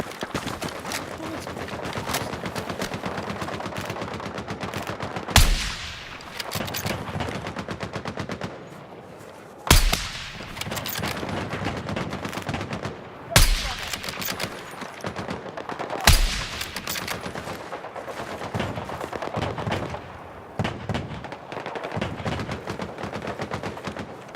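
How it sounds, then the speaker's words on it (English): Sustained machine gun fire in the video game Battlefield 6, loud and dense rapid bursts running almost continuously with a few sharp louder blasts, under occasional voices. "Contact enemy machine gun!"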